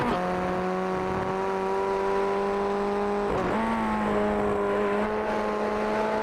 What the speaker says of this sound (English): Back to second gear, as he said. Using the gears to slow it down.